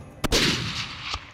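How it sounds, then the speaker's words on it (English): A single sharp rifle shot cracks out during an axis deer hunt in Hawaii, followed by a rolling echo and a fainter second report about a second later; no talking. "Nice shot."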